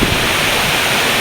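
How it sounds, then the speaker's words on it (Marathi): A small waterfall on the Kaas plateau near Satara rushes and splashes in a steady, loud, broadband roar of flowing water with no pauses. "छोटं छोटं पाणी वगैरे जात आहे आपला धबधबा"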